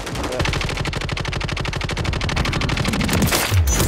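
Sustained enemy gunfire rattles through a battle royale video game fight, a dense, steady stream of rapid automatic shots up close for several seconds, with faint voices underneath.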